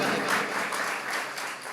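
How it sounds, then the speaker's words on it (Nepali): Hearty applause at an ashram foundation-stone ceremony in Doleshwor, Nepal, many hands clapping steadily and evenly at moderate distance, fading slightly toward the end. "एकपटक जोरदार ताली उहाँलाई पनि।"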